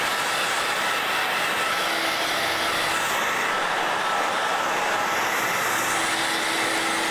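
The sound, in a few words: hair dryer running on high, drying paint on a mask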